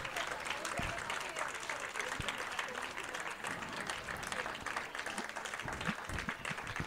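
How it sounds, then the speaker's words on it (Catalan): Audience applause at the unveiling of a painted mural supporting a referendum, steady dense clapping from a crowd filling the scene with continuous noise and a few sharper nearby claps. "un fort aplaudiment"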